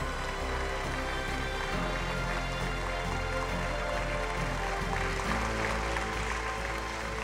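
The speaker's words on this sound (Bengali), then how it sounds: "তাকে একবার জোরে হাততালি হয়ে যাক।" An audience claps loudly at an award ceremony at a health conclave as a trophy and certificate are presented, a dense, sustained wash of applause filling the hall with a low hum beneath it.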